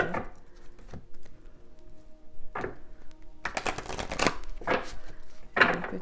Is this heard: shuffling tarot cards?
yes